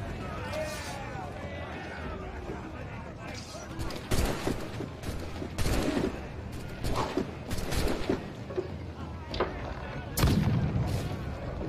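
Ship cannons firing in Assassin's Creed IV Black Flag, a series of heavy booming blasts spaced a second or two apart amid battle noise, with shouted voices throughout.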